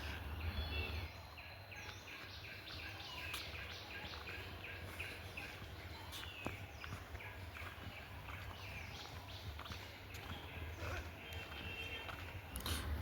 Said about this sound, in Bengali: পাখির আওয়াজটা শুনরা মানে এতটাই নীরব নিস্তব্ধ যে পাখির ইয়ে পর্যন্ত শোনা যায়